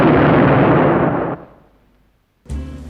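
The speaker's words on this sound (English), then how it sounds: "He will explode." A loud, booming explosion effect roars at full strength for over a second, then fades to near silence before a second heavy blast cuts in abruptly at the end.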